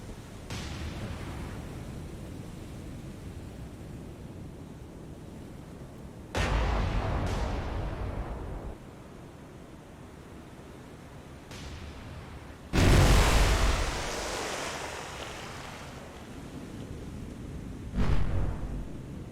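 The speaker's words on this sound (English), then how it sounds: "I'm gonna go ahead and switch to shooting the Kuma. And fire." Heavy naval guns fire at the Kuma cruiser during a sea battle in War on the Sea, three loud booming salvos spaced several seconds apart, each with a long rumbling decay over a steady roar of wind and sea.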